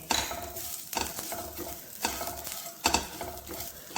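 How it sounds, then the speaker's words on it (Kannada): Grated coconut roasting with drumstick leaves in a pan for chutney, giving a steady soft sizzle broken by four scraping stirs of a spoon against the pan, close and alone without talk. "ಈಗ ಕೊಬ್ಬರಿನ ಏನು ತೊಗೊಂಡಿದ್ದೀನಿ ಅದನ್ನ ಸಹ ಇದಕ್ಕೆ ಹಾಕಿ ಸ್ವಲ್ಪ ಹುರ್ಕೊಳ್ತಾ ಇದ್ದೀನಿ"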